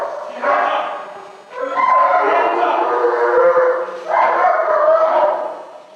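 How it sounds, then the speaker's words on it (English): A police dog at an arrest of a fugitive gives repeated loud barks and howling yelps in close, energetic bursts across the whole span, with tense commotion underneath. "Delta officer Matt Fage and his dog Blade go in first."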